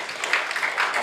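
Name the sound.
audience applause voting at improv show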